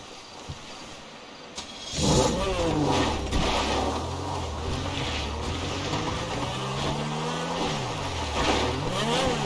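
Car engine driving at night in GTA 5, a steady mid-pitched drone that rises and falls as the car accelerates and eases off, loud and continuous after a quiet start.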